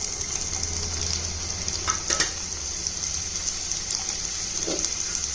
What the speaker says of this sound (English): So here I have taken this for sauteing the vegetables.